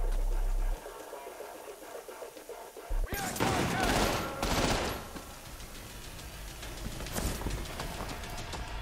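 Muffled suppressed gunfire bursts from a silenced gun in the shooter game Trepang 2, several rapid shots clustered together after a quiet stretch, with chaotic game noise continuing around them.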